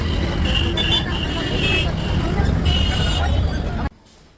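Heavy road traffic crawls through a crowded market in season-change rush, with engine drone, horns and crowd babble close by before the sound cuts off abruptly.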